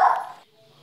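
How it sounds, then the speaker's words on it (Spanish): Dogs bark loudly and close for about half a second, then the sound drops to near silence. "Mis perras interrumpieron, disculpen."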